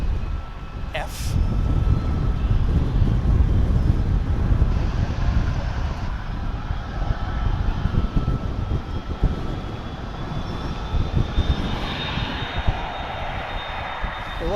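A 29-year-old McDonnell Douglas MD-11F cargo jet at DFW airport, a loud, steady engine roar with broadband rumble and wind buffeting, persisting throughout at close range.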